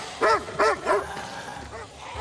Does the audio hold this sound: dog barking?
yes